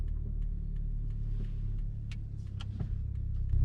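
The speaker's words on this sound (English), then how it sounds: "please start the engine and continue driving down the street" Car driving down a street during a driving test in Marrickville, a low steady engine rumble close by with faint clicks and passing noises, swelling slightly at the end.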